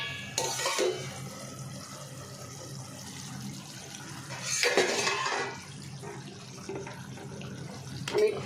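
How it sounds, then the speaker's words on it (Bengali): A small splash of water is poured into a pan of chicken kosha cooked with fried onions, making two short, soft pouring bursts with faint clinks of utensils in a quiet kitchen. "একটু সামান্য জল দিয়ে দিলাম।"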